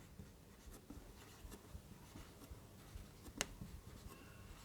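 Pen scratching on paper while a math solution is worked out by hand, a faint, steady run of short strokes and taps with one sharper tick near the end.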